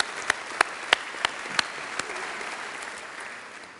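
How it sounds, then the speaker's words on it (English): Church congregation clapping at a temple service, a broad wash of applause from many hands with a few sharp louder claps near the start, gradually fading. "we give them a round of applause and hope that you'll come back"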